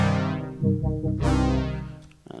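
Nord Lead synthesizer playing a subtractive analog brass patch in the high register, a few bright sustained notes with swelling attacks, close and clear with no voice.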